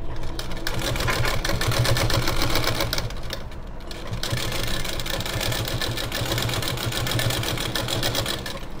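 A sewing machine stitches a blouse seam, running in a fast, steady mechanical rattle of needle strokes throughout, close and fairly loud.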